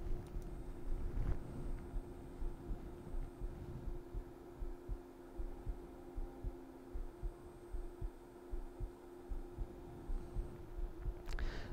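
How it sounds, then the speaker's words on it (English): A Haydon Kerk stepper motor linear actuator retracts in 1/32 microstep mode, giving a steady low hum and whine with a faint regular ticking pulse throughout, quiet and close. "Retract 10 inches at 1 inch per second using the rate of current of the motor in 1/32nd step mode."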